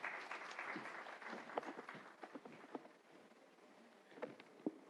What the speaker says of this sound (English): join me with a big round of applause